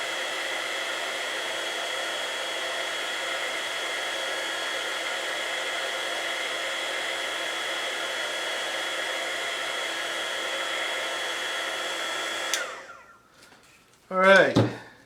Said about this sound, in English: I put the heat gun on it